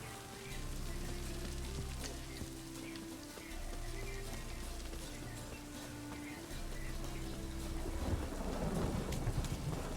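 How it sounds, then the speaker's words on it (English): Steady rain and rolling thunder fill a stormy scene in The Witcher 3, a low continuous rumble under dense patter that swells louder toward the end, with a tonal musical drone beneath. "Rain again."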